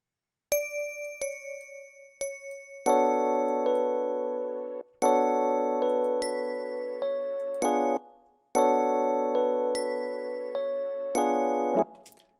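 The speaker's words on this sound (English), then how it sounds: "Go into the bells for the presets, Vibra handbell." Vibra handbell preset from the Purity plugin in FL Studio, a few single struck notes ringing out, then repeated bright chord hits with long shimmering decays, loud and alone.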